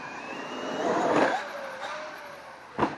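A Traxxas X-Maxx RC car with propulsion drive runs through a jump session, its motor whining and rising to a peak, then easing off, ending with a short sharp burst.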